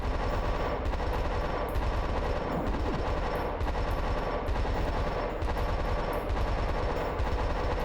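Sustained automatic gunfire from the stealth game Covert Critter, aimed at the player, rattles on almost without a break. Rapid shots come in dense bursts at a constant loud level, with short gaps between volleys and no voices.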